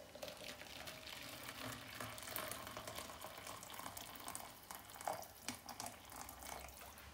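Freshly boiled kettle water poured into a jug to make beef stock, a quiet continuous trickling and splashing stream with a brief brighter splash near the end.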